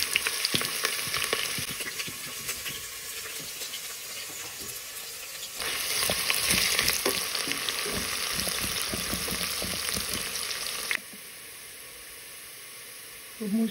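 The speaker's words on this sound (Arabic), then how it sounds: "واول شي منباشر بقلي البصل الجوليان" Julienned onion frying in olive oil in a preheated pot for lentil soup, giving a continuous bright hiss that swells and fades across sections, with scattered crackles and stirring noises.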